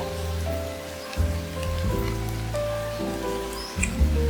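Heavy rain pours down on a muddy crocodile farm, a steady broadband hiss of drops drumming on surfaces, with low rumbling and occasional thumps mixed in throughout.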